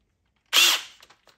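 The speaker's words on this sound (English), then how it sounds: "we're gonna take our pocket screws along with my drill" A cordless drill driving a pocket screw into wood: one short loud whir lasting about a quarter second, followed by a few faint clicks.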